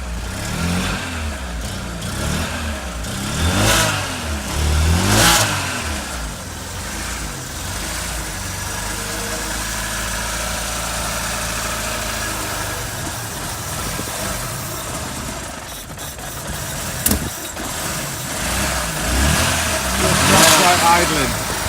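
A freshly rebuilt Opel Manta engine idles steadily with a deep, uneven throb and occasional swells in revs, while people talk over it throughout.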